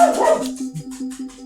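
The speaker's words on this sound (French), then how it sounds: "Excusez-moi, c'était le chien." A dog gives a short series of quick, rhythmic barks nearby, five or six yips in a row over a steady low hum.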